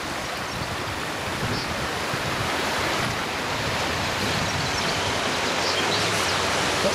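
Floodwater rushing through a newly formed stream beside a flooded field in Williton, West Somerset, a steady, dense close-up wash of flowing water with light wind noise and no voices.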